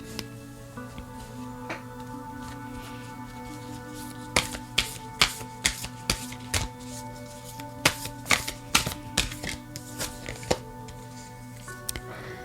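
Oracle cards from the Great Eastern Oracle deck are handled and pulled, giving a series of crisp snapping and flicking taps, some sharp and close, over a faint steady background hum.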